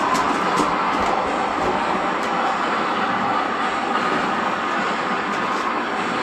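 Several Lionel model trains running at once on a temporary layout track, powered by ZW and early Z transformers, a steady rolling rumble and metallic clatter with faint clicks, continuous and fairly loud with no speech.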